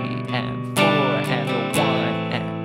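Several strummed guitar chords from Bob Marley's "No Woman No Cry" ring out in a steady rhythm, bright and close, each strum sharp with a sustained, shimmering decay.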